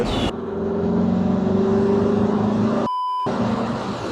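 Ferrari Testarossa engine while driving in third gear, a steady mid-pitched drone heard from inside the car, briefly cut by a short tonal beep-like gap before the engine resumes.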